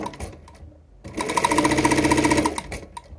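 A vintage sewing machine, fitted with modern technology, runs steadily at speed with a dense rhythmic whir after a few short starts and stops. It halts briefly at the end as the pedal is released, coming to rest needle down.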